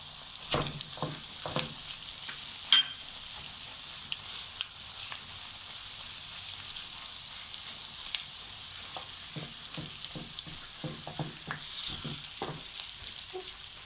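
Half a kilo of minced meat crackles and sizzles in a pan with onions, with scattered pops and stirring scrapes over a steady hiss, moderately quiet and close.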